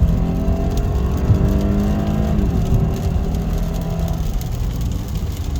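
A 2011 Lexus IS250 with an all-wheel-drive V6 accelerates hard on a rainy road, its engine note rising steadily in pitch as it winds up, with a constant wet road and cabin rumble underneath.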